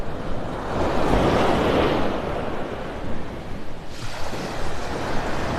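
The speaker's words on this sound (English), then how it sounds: "these waves, it's been rough" Rough Gulf of Mexico surf breaks continuously on Vanderbilt Beach in North Naples, Florida, a loud rushing wash mixed with gusty wind noise.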